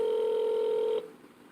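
A telephone ring tone sounds as a steady, loud electronic tone for about a second before cutting off, followed by faint line hiss, as someone places a call.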